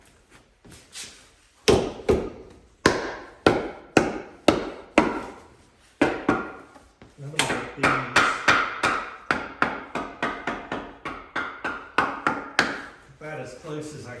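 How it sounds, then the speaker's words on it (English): A rounding hammer strikes metal on an anvil made from a railroad track, sharp ringing blows at first spaced out, then a fast steady series, close and loud, with someone talking briefly between strikes. "The rounding hammer."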